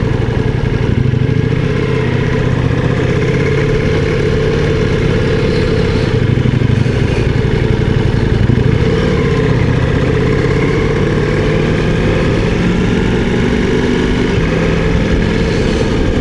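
A Ducati Multistrada V4 S motorcycle engine drones steadily and loudly close by, its pitch shifting slightly as gears change via quickshifter, with no voices present.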